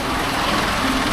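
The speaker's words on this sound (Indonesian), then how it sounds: "Banyak motor." Motorbike engines in heavy, jammed traffic in Bali make a continuous, fairly loud drone of idling and revving that stays close and steady throughout, with no speech.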